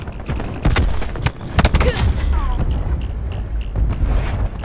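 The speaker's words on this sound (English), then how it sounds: "Throwing cluster grenade." A cluster grenade thrown in a video game, a series of loud sharp blasts and crackling bursts amid game gunfire and mechanical clatter, with a player's voice in between.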